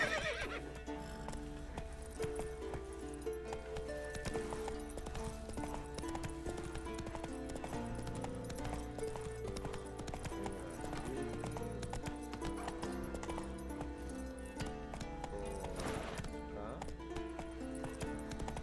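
In The Witcher 3: Wild Hunt, Blood and Wine, the horse Roach gallops with steady clip-clop hoofbeats and whinnies beneath a dense layer of game music, with a voice heard at moments.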